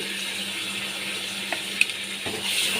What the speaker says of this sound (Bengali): হলুদ দিয়ে আমি আবার ভালো করে মিশিয়ে নিচ্ছি